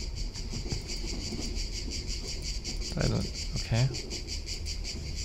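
Steady, dense cicada drone in a video game runs through the whole stretch at even loudness, with brief spoken words breaking in near the middle.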